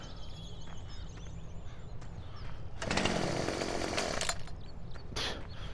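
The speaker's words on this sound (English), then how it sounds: "every time you hit that button, which turns lights on, it activates my chainsaw" A chainsaw revs up in Farming Simulator 17 inside a shed, a buzzing burst lasting about a second and a half and then a short second rev, over a constant low engine drone.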